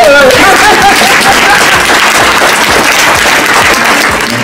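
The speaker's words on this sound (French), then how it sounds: "Applaudissements" A large audience applauds at a prize ceremony for a school competition, a loud, dense wash of clapping that holds steady throughout, with a voice faintly audible at the start.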